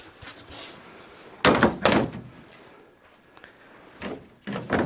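A car door on a kit car based on the ADO16 Ranger is handled and fitted, with several sharp thumps and knocks in clusters between quieter stretches of fiddling.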